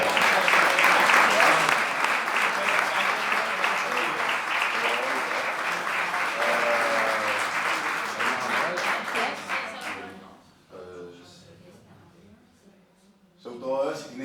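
Dense audience applause at a lecture fills the room steadily for about ten seconds, then stops abruptly, leaving someone speaking.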